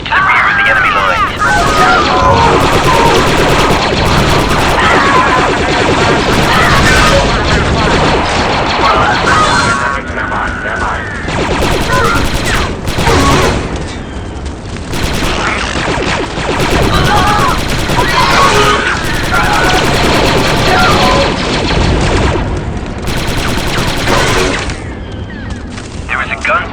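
A gun emplacement firing in the shooter Star Wars: Republic Commando, with loud, nearly continuous bursts of automatic gunfire and impacts crowding the battlefield, while radio voices speak over the din.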